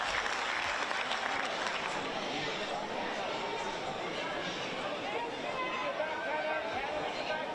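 Crowd applause and cheering for a goalkeeper's double save in a women's football match, a dense, steady wash of clapping and chatter filling the whole stretch at moderate distance.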